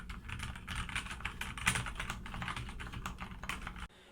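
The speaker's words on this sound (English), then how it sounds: "My keyboard is the Keychron K2 version 2 hot swappable edition with brown switches." Steady, rapid clacking of a Keychron K2 version 2 mechanical keyboard with brown switches, close and fairly quiet, with soft, muted keystrokes and no voices.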